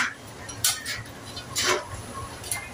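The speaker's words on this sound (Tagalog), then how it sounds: "Haluin natin kung mahalo natin siya" Metal spatula clinking and scraping in a small pan while stirring canton bihon noodles, a few close, bright strokes spaced about a second apart over a quiet background with no talk.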